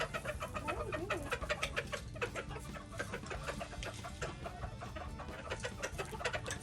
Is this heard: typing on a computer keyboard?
no